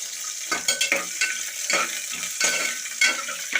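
Green chilies stir-fry in a hot pan, a bright steady sizzle broken by repeated scraping stirs roughly every half second, heard close and without speech.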